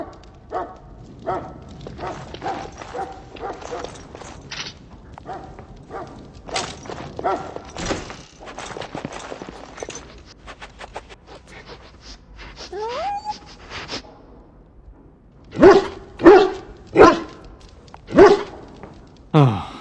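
Dog barks in the game Dragon Age Origins, scattered among footsteps, clatter and other game sounds, then a run of four loud, evenly spaced barks near the end.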